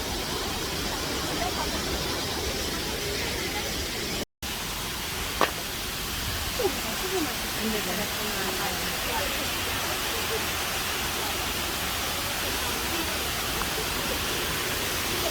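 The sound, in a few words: Taman Beji Griya holy waterfall spraying, Bali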